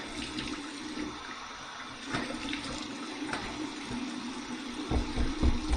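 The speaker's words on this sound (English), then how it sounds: "Here's my cold water rinse" Cold water runs steadily from a bathroom faucet into a sink for a rinse after shaving, a continuous close splashing hiss with small surges and splatters toward the end.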